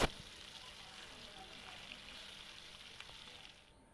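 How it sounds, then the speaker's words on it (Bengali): Bhola fish frying in hot oil gives a steady, close sizzle that crackles evenly throughout and eases off near the end, with no talking. "উল্টে দিয়ে আরেক পিঠটাও আমি ভেজে নেব"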